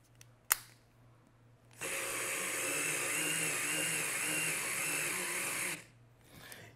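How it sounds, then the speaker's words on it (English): A small Skil electric screwdriver whirs steadily for about four seconds, its motor hum close and even, starting and stopping abruptly after a brief click. "That's a lot of torque for this little Skil screwdriver."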